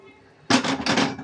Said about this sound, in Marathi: असं पाणी घालते.